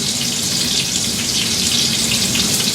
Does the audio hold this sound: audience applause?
no